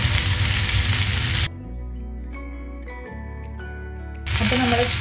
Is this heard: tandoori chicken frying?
yes